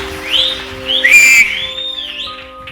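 Excited whistling from an audience at a Bible study gathering: wavering, gliding high whistles over a quiet room, with one brief, sharper whistle near the middle.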